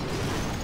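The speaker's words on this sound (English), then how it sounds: "The Super Pikas have all blown up now." Super PEKKA troops blowing up in Clash of Clans: a brief, dense, loud burst with a rumbling low end, heard alone.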